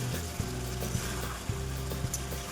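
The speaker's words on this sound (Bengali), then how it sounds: "এখন আমি চিকেনটাকে কষাচ্ছি ভালো মতো।" Chicken sizzling in a hot pan while being stirred and cooked down, a steady close frying hiss with regular soft scrapes and knocks of the spoon against the pan.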